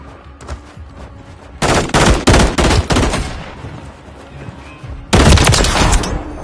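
Bursts of automatic gunfire in Call of Duty Modern Warfare III on the Derail map, loud and close, with rapid volleys around two to three seconds in and another heavy burst near the end, separated by a quieter stretch.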